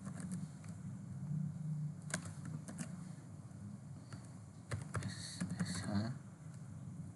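Typing on a computer keyboard during a Hadoop installation, scattered quiet key taps in short bursts over a low room hum, fairly faint and close.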